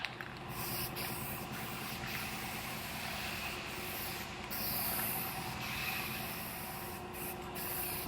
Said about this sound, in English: Now I'm gonna put a guide coat on it.